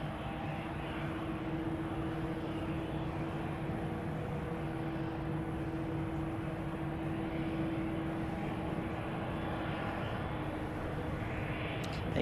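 A heavy United airliner idles on runway 28 left at San Francisco, its engines giving a steady low drone with a constant tonal whine, distant and unbroken throughout.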